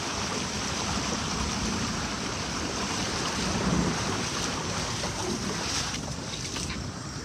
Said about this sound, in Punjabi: ਸਪੀਡ ਬਹੁਤ ਆ ਜੀ ਪਾਣੀ ਦੀ